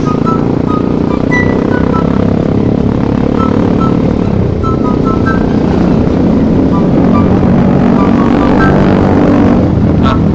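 A loud motorcycle engine revs and drones continuously on a village road, its pitch rising and falling in throaty bursts, close by and dominating the scene.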